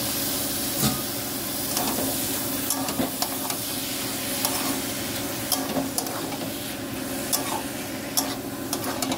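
Boiled mushrooms tipped into a sizzling red-chilli spice paste and stirred, a steady close frying hiss broken by repeated scraping and clattering of a spatula against the pan.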